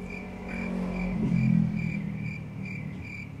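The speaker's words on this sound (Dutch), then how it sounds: "Met krekelgeluid eronder." Crickets chirp in a regular, evenly spaced pulse, added as a sound effect over a low rumbling background, moderately loud and steady with no talking.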